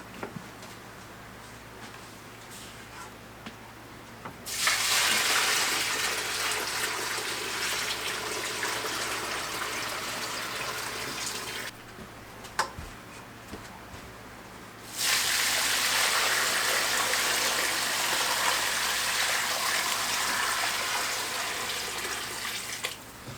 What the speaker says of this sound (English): so I'm going to get this thing watered.